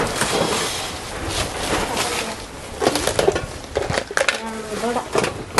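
Pots, plates, glasses and a stand for holding dishes being handled, with irregular clattering, clinks and metallic knocks close by, interspersed with people talking.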